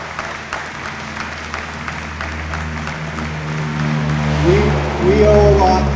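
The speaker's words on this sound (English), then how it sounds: "give a big round of applause for all of our World War II" An audience at a veterans' round table applauds World War II veterans, steady clapping that continues as music swells underneath toward the end.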